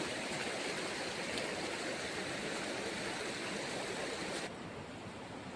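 A mountain river runs past lingering snow near Hemkund Sahib, a steady, dense rushing of water that fills the clip and drops slightly softer near the end.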